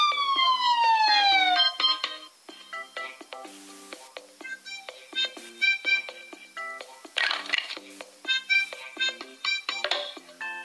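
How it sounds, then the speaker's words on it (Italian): An ambulance siren wails in a rising-and-falling electronic tone, loud and close at first, then breaks into a string of short, chirpy electronic beeps and tones that continue to the end. "Ambulanza."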